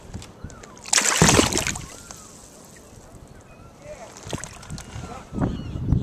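A chain pickerel splashing back into lake water from a boat on Lake Okeechobee, a loud close splash and sloshing early on, then further water movement and wind, with people talking nearby.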